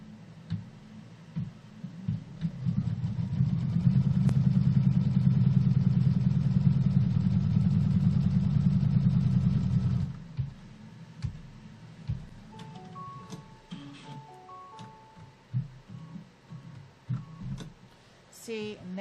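A computerized embroidery machine tacking down a strip of quilting fabric, running with a steady mechanical hum and rapid stitching for several seconds before stopping, followed by quieter clicks and beeps as the hoop repositions.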